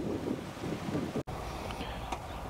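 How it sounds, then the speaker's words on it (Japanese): Wind gusting across an open golf course near a par-3 green, a steady broad rush of noise with a brief dropout midway, faint and continuous throughout. "ちょっと風が吹いてます。"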